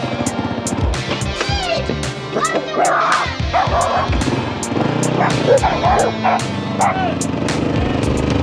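Several dogs bark and yip loudly and close by in repeated, overlapping bursts, with people talking over them and a motor-like rumble in the background.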